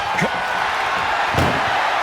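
Ambulance door slams shut in the wrestling video game WWE 2K24 during an ambulance match, a single sharp thud near the middle of the clip over steady crowd noise from the arena.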